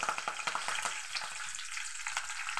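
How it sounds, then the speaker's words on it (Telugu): Vegetables and green chilies fry in oil for vegetable biryani, a steady crackling sizzle with short clicks of stirring, close and moderately loud, no voices. "ఇవి కొంచెం వేగనివ్వాలి. ఇవి కొంచెం వేగుతున్నాయి."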